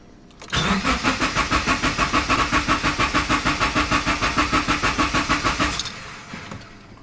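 A Subaru Forester XT cranking on its starter after an oil and filter change without firing. The rhythmic chugging runs loud and fast for about five seconds, then stops.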